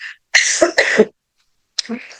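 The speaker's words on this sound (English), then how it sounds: "I'm going to cough again because I've got a cold." Someone with a cold coughs up close, a couple of harsh, chesty bursts, a silent pause, then another rough cough, with no speech.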